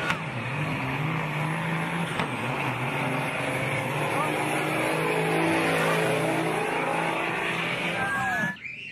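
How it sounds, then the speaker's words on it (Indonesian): Engine roar of a toy tronton truck, steady and loud with revving and tire-squeal-like sweeps, fairly close, ending abruptly near the end. "Ini ada mobil truk tronton,"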